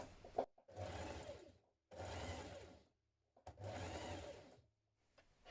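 A sewing machine stitches around the curved edges of a dress in three separate runs of about a second each, with short pauses between them, close and quiet.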